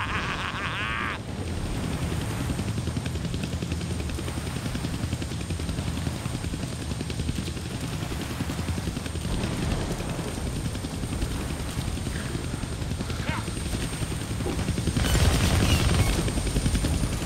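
Steady loud helicopter rotor drone in a Deadpool action video game, continuous throughout and swelling near the end.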